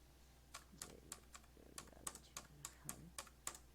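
A computer keyboard is tapped in a quick run of crisp, close key clicks, several strikes spaced irregularly over a few seconds, with no voices.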